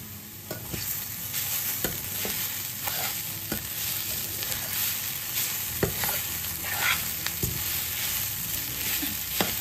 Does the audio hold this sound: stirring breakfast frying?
yes